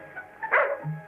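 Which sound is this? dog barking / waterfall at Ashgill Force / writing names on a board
dog barking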